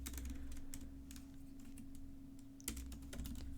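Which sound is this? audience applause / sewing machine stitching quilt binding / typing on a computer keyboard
typing on a computer keyboard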